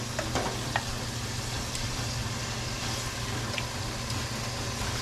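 Pork in marinade sizzles in a pan as Filipino pork machado cooks, a steady, even frying hiss that carries on throughout with faint stirring clicks and a low background hum.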